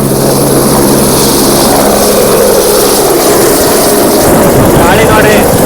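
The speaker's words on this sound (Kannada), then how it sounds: "ನೋಡ್ರಿ, ಅಲ್ಲಿ ಹಾರಾಡ್ತಿದೆ ಹೆಲಿಕಾಪ್ಟರ್" A ride helicopter flies at Tiptur with a loud, steady rotor and engine drone. Gusty wind buffets close to the microphone, and the whole passage is dominated by the continuous roar.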